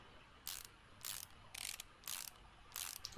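A ratchet tightens the intake manifold bolts of a Mazda MX5 Miata in Car Mechanic Simulator 2018. Five short, evenly spaced clicking ratchet bursts sound faint and close against quiet background hiss.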